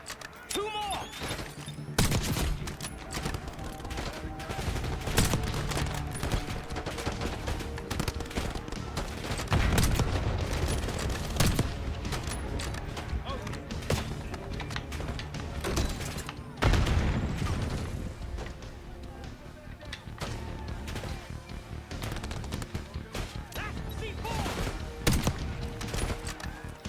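Sustained gunfire from a Call of Duty: Black Ops 6 campaign battle, dense bursts of automatic rifle and machine-gun fire with booming impacts, loud and continuous throughout, with occasional voices underneath.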